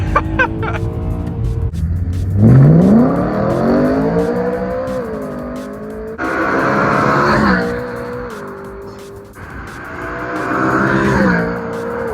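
A BMW E92 M3 engine revs hard through several downshifts and gear changes, pitch climbing and dropping with each shift as it accelerates, loud and close throughout.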